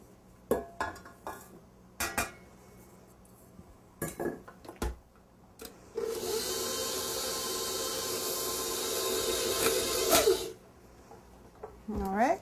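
A stand mixer beats Mexican chocolate cookie dough after more ingredients are dumped in, a steady mid-loud whirring hum running for about four seconds after scattered scraping and clinking sounds of a bowl and spatula.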